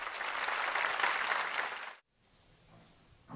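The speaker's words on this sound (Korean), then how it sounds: "시코의 무대 뜨거운 박수로 맞아주시기 바랍니다" Audience applause welcoming a world citizens orchestra onto a concert stage: a dense, steady clapping crowd for about two seconds, then it cuts off abruptly to a quiet hall.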